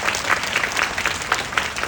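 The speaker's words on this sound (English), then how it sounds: "So can we give Nu Skin management another round of applause?" An audience claps in steady, dense applause at a business forum, sustained and fairly close, with no voices over it.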